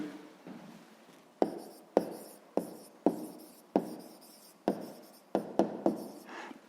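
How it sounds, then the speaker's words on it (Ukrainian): A pen or pencil writes out the answer to a sixth-grade math exercise, giving a series of about ten sharp taps and short scratching strokes in an uneven rhythm, close and quiet, with no talking. "ну що ж, записуємо тоді відповідь"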